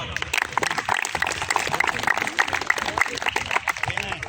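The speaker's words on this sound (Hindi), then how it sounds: "आप तमाम लोगों के लिए एक दफा भरपूर तालियां।" Audience applause at a Transfo Tech Engineering silver jubilee celebration: a dense, steady wash of many hands clapping for about four seconds, with voices mixed in beneath it.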